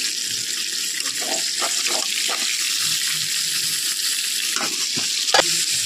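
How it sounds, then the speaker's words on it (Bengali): Fish sizzles steadily in hot oil as it is fried deep red for a Bengali fish curry, a constant bright hiss broken by a few scraping stirs and clinks near the end. "মাছটা হয়ে গেছে, আমি এবার তুলে নেব। এত লাল করে ভেজে নিয়েছি।"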